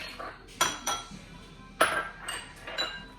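Small stackable spice bowls clinking together as spices are combined, a handful of sharp, close ceramic taps and chinks spaced irregularly over a quiet background.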